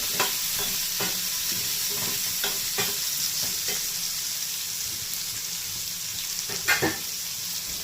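Mango pieces for a sweet pickle sizzle and fry steadily in a pan, with a spoon stirring and scraping at irregular intervals over the constant close hiss.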